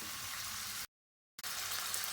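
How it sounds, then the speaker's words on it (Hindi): Chicken sizzling in a pan with salt and black pepper, a steady, close, bright frying hiss that drops out completely for about half a second before resuming. "½ टीस्पून काली मिर्चें, और इसे 1 से 2 मिनट के लिए फ्राई करेंगे"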